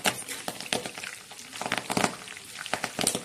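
Hibiscus leaves dropped into hot oil for a homemade hair oil, giving a steady crackling sizzle with bright spitting pops that rise and fall across the moment, close and fairly quiet, with no talking.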